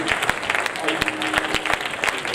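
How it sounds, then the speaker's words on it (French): Members of a church congregation applaud the mothers at a Mother's Day service, with distinct sharp claps cutting through a lively crowd while voices carry over the top. "Nous pouvons applaudir pour nos mamans."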